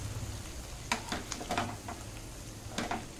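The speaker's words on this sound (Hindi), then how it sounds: "चलो अभी हम फिश पलटी करेंगे और थोड़ा सा सब तरफ से इसको अच्छे से फ्राई करके लेना है।" Fish for a Malvani fish fry sizzles steadily in a pan, a soft, close hiss broken by a few sharper crackles and spits, with no talking.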